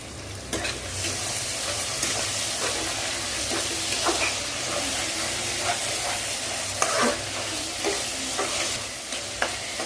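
Chicken hakka noodles with chilli flakes and tomato ketchup are stirred and tossed in a hot pan, giving a continuous loud sizzle broken by repeated scraping and clattering strokes.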